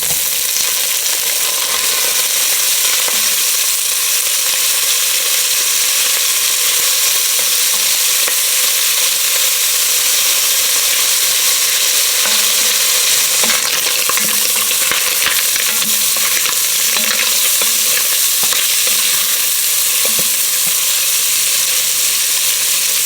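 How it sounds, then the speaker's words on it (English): A thick slice of ham sautés in a soup pot, giving a loud, continuous sizzle and crackle with occasional stirring scrapes throughout. "Then we're just going to saute this ham first."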